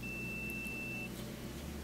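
A continuity tester probing the terminals of an oven gas safety valve gives one steady high beep lasting about a second over a low background hum, signalling a complete circuit.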